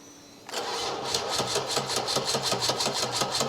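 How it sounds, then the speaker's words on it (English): An engine flywheel cranks into a rapid, rhythmic whirring after a brief quiet start, the spinning pulses repeating evenly and loudly. "we're going to show you how a flywheel spins on the back of an engine"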